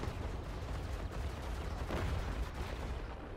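Rapid weapon fire in the space artillery game Worbital, a dense, steady rumbling barrage of shots with no talking.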